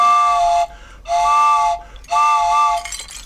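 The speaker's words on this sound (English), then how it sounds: "This is a train whistle." A metal train whistle from Great Britain gives three sustained blasts, each a rich multi-tone chord about half a second or more long, separated by short gaps, loud and close with no talk.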